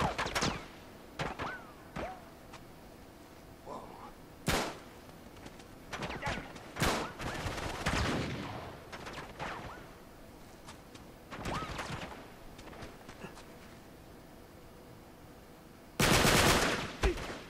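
Uncharted 3 combat at the Citadel, with scattered gunshots and short bursts of automatic fire, some near and sharp, others distant, spread across the scene with brief quiet gaps and occasional game dialogue.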